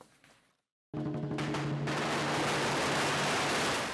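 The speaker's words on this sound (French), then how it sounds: "Des pétards pour chasser les mauvais esprits" A dense, continuous crackling roar of firecrackers set off to chase away evil spirits at a Chinese New Year celebration bursts in loudly after a brief silence, rapid pops blending into a harsh wall of noise.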